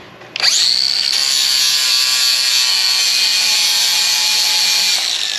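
A flap wheel sands a 45-degree miter bevel on a wooden piece for a hinged floating mantel, starting abruptly and holding a loud, steady high-pitched whir for about five seconds.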